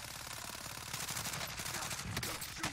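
Rapid gunshots in a battle royale video game's final circle, a steady, fast stream of automatic fire at moderate level running throughout without a break, with no voices over it.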